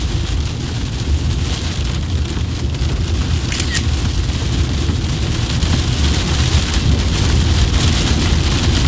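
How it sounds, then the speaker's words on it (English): Heavy rain pours steadily onto the ground during a hail-threat storm chase, loud and constant throughout, with thunder rumbling low beneath the downpour and no talking. "Heard thunder on that one."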